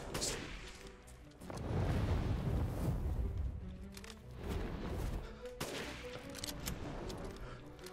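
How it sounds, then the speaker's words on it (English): Handgun shots in Resident Evil Village against a tough enemy, heavy bursts of firing and booms with a loud rumbling body, sharp cracks at the start and again later, no talk. "Take a lot of handgun bullets to take that one down."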